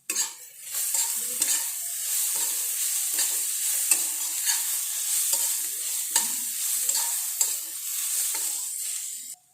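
Curry leaves and onions fry in a pan for moong ghugni, a bright, steady sizzle with frequent scraping strokes of a spatula stirring through it, up close and without voices.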